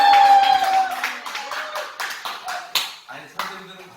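A church group, a Sunday class at a Korean church, claps in a ragged burst of hand claps that thins out into scattered sharp claps, with a voice talking over the start.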